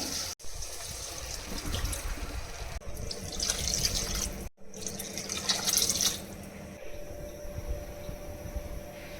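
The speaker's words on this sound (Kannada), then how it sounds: "ಇದಕ್ಕೆ ನಾನು ಒಂದು ಮೂರು ಬೌಲಷ್ಟು ನೀರನ್ನ ಹಾಕೊತಾ ಇದ್ದೀನಿ" Water pours steadily into a metal pan with a hollow rushing splash, pausing briefly a couple of times before continuing.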